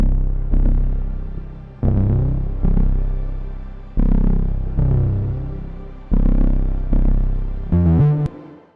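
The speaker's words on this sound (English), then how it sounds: "the effect of the bass lane sounds like this" Deep synth bass notes through the Basslane Pro plugin with a shimmer reverb adding an octave-up glow, six sustained hits that each swell and slowly decay, loud and alone, ending in a brief bright flourish.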